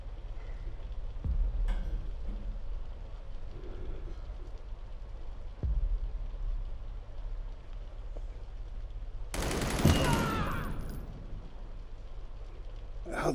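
Gunfire in the VR game Crisis on the Planet of the Apes comes as a few sharp shots early on and a loud burst near the end, set over a steady rain-like background.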